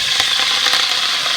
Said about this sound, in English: let's get them back over and start them sizzling